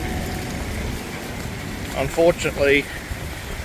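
Steady rain patters in the background while a person speaks briefly near the end.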